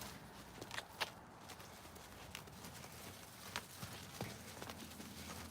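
A mare being worked in an arena as the sun sets, her hooves thudding in faint, scattered clip-clops against a low background hush, with no talking.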